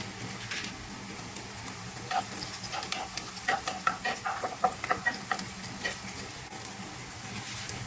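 Garlic sautéing in a pan after thin-sliced ginger, with soft sizzling under a run of light scraping and stirring clicks that grow busier in the middle, fairly close.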